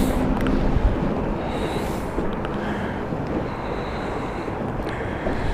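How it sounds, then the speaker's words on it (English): Airbus A220 airliner engines starting up at London City Airport, a steady broadband roar heard from some distance with wind buffeting the microphone throughout. "The A220 starting up now."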